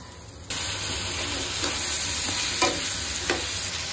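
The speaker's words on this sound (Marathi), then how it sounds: "आता आपण ह्याच्यामध्ये भाज्या टाकून परतून घेणार आहोत।" Vegetables for kurma bhaji go into a hot pan of browned onions and sizzle loudly, the frying hiss starting abruptly and holding steady with a few light stirring scrapes.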